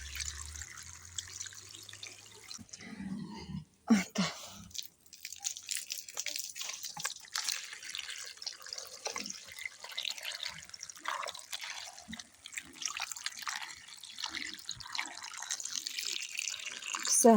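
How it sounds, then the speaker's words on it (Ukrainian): Water from an outdoor hose pours into buckets of pickling cucumbers, a faint splashing, dripping trickle that runs steadily through the whole stretch, with a brief knock near the start. "І звичайною проточною водою прямо зі шланга на вулиці. Заливаю повне відеречко, одне друге"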